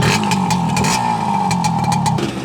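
A 1972 Kawasaki G3SS 90 motorcycle with a carbureted engine runs steadily nearby, a loud, even buzzing drone that holds its pitch throughout, with no talking.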